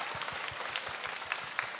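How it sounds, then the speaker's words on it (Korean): Audience applause at a talk concert after a song performance, steady dense clapping from a crowd filling the whole stretch with no voices over it. "다시 한번 박수 부탁드립니다."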